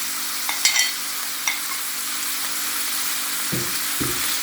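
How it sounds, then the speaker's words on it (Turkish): Onions and garlic hit hot oil in a pan and sizzle steadily while being stirred, with a few scraping clinks of the spoon and a couple of low knocks near the end. "Ve karıştırmaya devam ediyoruz."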